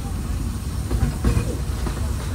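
The Walt Disney World Railroad train rumbles along at Magic Kingdom, a low, steady rolling noise with a few soft clacks and hissy bursts, heard close from aboard.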